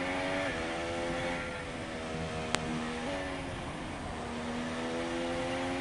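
A race car passes the pits at a Japan round, its engine a steady droning tone that shifts pitch as it goes by, heard at moderate distance without talk.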